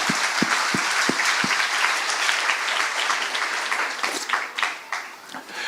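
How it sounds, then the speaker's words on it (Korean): A congregation at a Korean church revival service applauds in a large hall with a dense, continuous wash of clapping. A few sharp near claps stand out early, and the applause thins slightly toward the end. "하나님께 영광의 박수 올리겠습니다."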